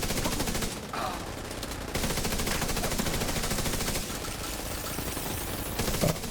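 Sustained rapid gunfire from an enemy shooter in a first-person video game, loud and continuous bursts of automatic shots filling the whole stretch with dense crackling impacts.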